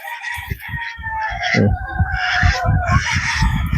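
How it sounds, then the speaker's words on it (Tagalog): Free-range street chickens clucking and a rooster crowing outdoors in a garden, loud and close, with overlapping clucks and a drawn-out crow. "Kami dito, free range street chicken."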